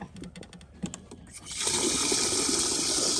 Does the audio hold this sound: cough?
no